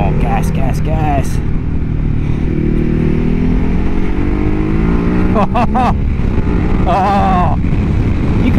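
A Ducati Hyperstrada motorcycle accelerates hard, its engine note climbing through rising revs over loud wind rumble, with short voiced exclamations breaking in.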